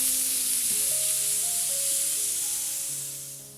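Chopped onions frying with spices in a pan for dhaba-style chana dal tadka, a steady broadband sizzle that holds loud and close throughout and eases slightly at the end, with no talking.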